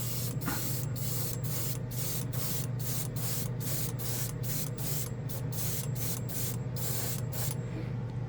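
A spray can lays down a final coat of metal color paint in a close, continuous hiss broken by rapid rhythmic pulses as short passes are made, quiet and steady with no voices.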